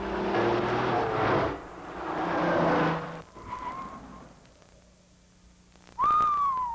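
A Nissan 300ZX Turbo sports car drives hard, its engine roaring in loud surges. A rising whine and a tire squeal follow, and a sharp high-pitched skid-like screech comes at the end.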